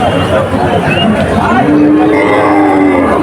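A cow moos in a long low call at a crowded cattle market in Manirampur, Jessore, where thin cattle and calves are traded, rising over steady crowd chatter and nearby talk.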